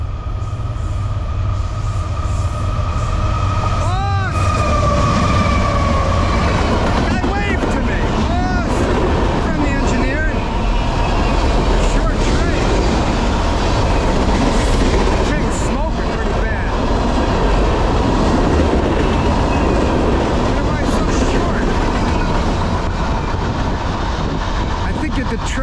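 A short Norfolk Southern freight train hauled by two rebuilt Dash 9 locomotives rolls past close by, steady rumbling and clattering wheels on the rails with squeals and horn blasts, growing and fading over time.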